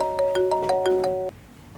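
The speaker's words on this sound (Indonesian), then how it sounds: "Ada yang telepon nih." A telephone ringtone plays a quick, repeated electronic melody, loud and close, for just over a second before it stops.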